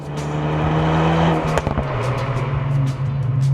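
A Hyundai i20 N hot hatch with a Cobra Sport exhaust idles with a deep, rumbling tone, then revs sharply in a couple of quick blips before settling back into a steady grumble, loud and close.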